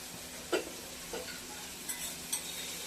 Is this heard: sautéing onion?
yes